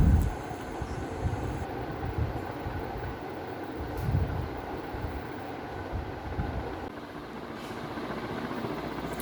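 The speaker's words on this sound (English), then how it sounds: "This fan is performing so nice and so smooth, and the airflow is quite awesome." A 1975 GEC Toofan ceiling fan runs with a steady low rumbling whir and faint mechanical rattle, continuous and fairly loud at close range.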